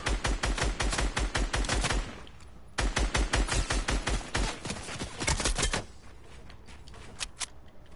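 Rapid bursts of automatic gunfire ring out in a battle royale video game, two long rattling volleys with a brief pause between, then sparser shots trailing off toward the end.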